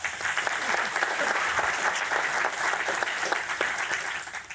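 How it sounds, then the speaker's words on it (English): An audience at a forum session bursts into sustained applause, dense, steady clapping filling the room for several seconds with no speech over it. "If we can just give a round of applause for Alice."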